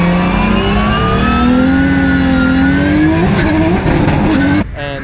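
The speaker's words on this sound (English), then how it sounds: "you'll hear some of the guys even clutch kick" A drift car on a D1GP course in China revs hard and sustains a loud engine howl, with pitch swings from clutch kicks as it reinitiates into a right-hander, tires hissing, before the sound cuts off abruptly near the end.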